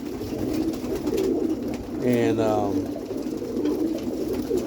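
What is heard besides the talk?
pigeons cooing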